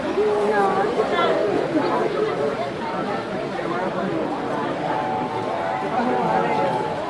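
Steady crowd chatter fills a busy toy train swap meet, a dense indoor murmur of many voices with a faint tonal hum from running train layouts.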